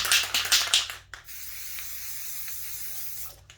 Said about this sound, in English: little bit of spray paint